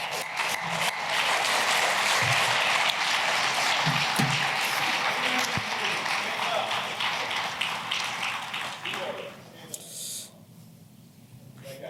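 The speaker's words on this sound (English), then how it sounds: "So let's give them another round of applause." Audience applause fills a conference keynote hall at FOSS4G NA 2024, a dense, sustained wash of clapping that gradually thins toward the end, with a few voices and taps mixed in.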